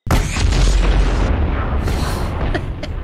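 A church blows up in the Feuerwerk Simulator video game with one loud, close boom that rumbles and crackles for about three seconds before fading into scattered debris noise.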